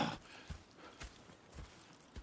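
Hooves of horses in a Red Dead Redemption 2 scene clip-clop at a steady walking pace, a regular thudding beat repeating about every half second, moderately close, with no voices over it.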